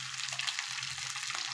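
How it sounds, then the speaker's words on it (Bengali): Dried loitta fish and potatoes fry in oil, giving a steady, close hiss of bubbling that holds evenly for a moment with no talk. "এখন এই যে এইভাবে একটু ভাজি করে নেব তেলে, আলুটাও ভেজে নেব"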